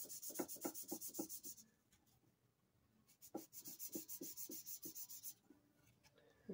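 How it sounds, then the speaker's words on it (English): A cane clarinet reed made from tube cane is sanded by hand on a bench, giving quiet, close rhythmic rubbing strokes in two bursts separated by a pause. "And not much at all, just a little bit of sanding."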